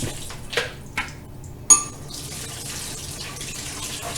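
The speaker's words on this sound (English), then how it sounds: "I'm going to go pour that into the sink through the strainer and rinse them." Water from soaked mung beans splashes through a strainer into a kitchen sink, with a few sharp clinks of the strainer against the basin, then a steady running rinse.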